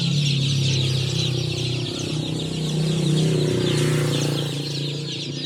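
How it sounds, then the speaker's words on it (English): A dense, continuous chorus of high peeping comes from many chicks crowded in a roadside chicken coop in West Africa, over a steady low hum, with no talking. "Little chicks, they're so cute."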